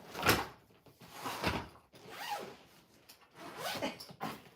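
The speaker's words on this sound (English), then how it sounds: "As I unzip." A bag being unzipped up close, several quiet rasping zipper pulls in short bursts, alone with no talk.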